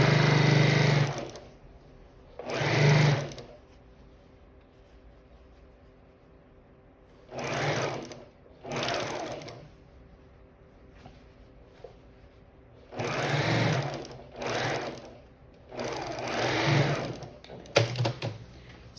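A sewing machine stitches a recycled denim basket in several separate bursts of rapid whirring, each a second or two long and divided by quiet pauses, close and loud.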